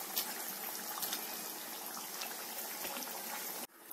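Fish curry simmering in a pot, a steady bubbling and popping boil with a dense liquid crackle, close and even until it cuts off near the end.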